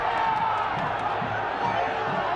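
Soccer stadium crowd in a San Diego Loyal versus New Mexico United match, a broad, steady wash of distant crowd noise with faint whoops and murmurs, holding at a constant level for a couple of seconds.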